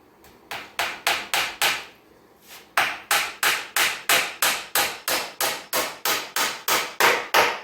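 Hammer driving finishing nails into a wooden fireplace mantel: a close, loud run of sharp, evenly spaced blows, about twenty in all, with one brief pause near the start.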